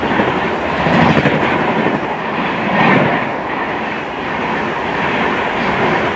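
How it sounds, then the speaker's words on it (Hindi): Gondwana Express train overtaking on the adjacent track, heard from aboard a moving train: a loud, steady rush of wheels and rail noise with faint clickety-clack, swelling slightly as the carriages pass alongside. "पहला ओवरटेक होता है train number 22182 Nizamuddin Jabalpur Gondwana express"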